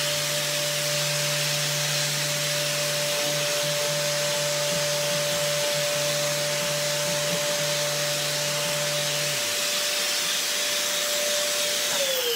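A steady, loud whirring roar from an electric sander running continuously on wooden furniture, with a droning motor hum that shifts pitch near the end as it winds down.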